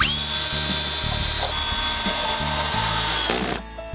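A power drill drives fasteners through a vinyl soffit receiver, loud whirring bursts with the pitch stepping as the screw seats, then a sudden stop into near silence, with no talking.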